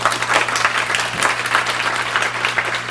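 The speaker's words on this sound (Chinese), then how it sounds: "掌声一下呢" Audience applause at a sales seminar, a dense, steady clapping from a crowd that fills the room throughout, loud and close.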